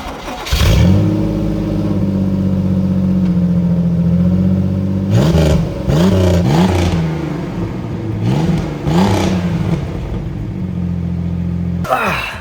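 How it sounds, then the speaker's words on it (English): Ferrari 308 kit rally car engine starting and idling loudly, then blipped through several sharp revs that rise and fall in quick succession before settling back to a steady idle. "this engine, it sounds really good"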